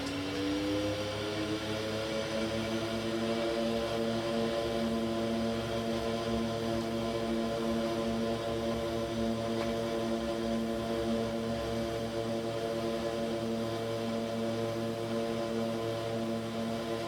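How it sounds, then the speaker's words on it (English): A de Havilland Twin Otter turboprop aircraft on runway 12, its propellers and engines droning steadily and loudly with rising tonal whine as it powers up for takeoff, heard close from inside. "So we're going to take off on runway 12."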